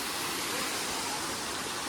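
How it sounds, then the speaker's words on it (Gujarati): A waterfall at Pavagadh pours in a constant, rushing roar of water, an even wash of noise with no breaks and no voices. "મસ્ત મજાનો ધોધ પડી રહ્યો છે જોઈ શકો છો તમે અહીંયા"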